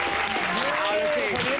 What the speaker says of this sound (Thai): เสียงปรบมือให้กับ The Winner